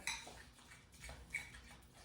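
Protein powder being stirred into breakfast cookie batter in a bowl, with faint scraping and light clinks of a spoon against the dish, quiet and close, no talking.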